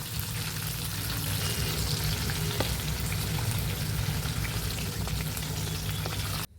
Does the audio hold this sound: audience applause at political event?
no